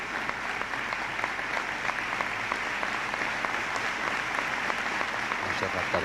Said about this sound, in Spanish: Montserrat Caballé recibe la ovación de todo el público que asiste a esta ceremonia de entrega de los premios Príncipe de Asturias.